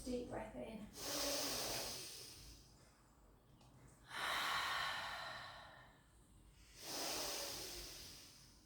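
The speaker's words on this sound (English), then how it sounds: "Take a gorgeous deep breath in." A deep inhale during a pilates class, with three broad breathy swells spread across the stretch, close and fairly soft, with a voice speaking briefly at the start.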